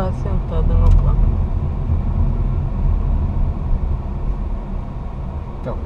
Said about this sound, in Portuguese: Passou aquele carro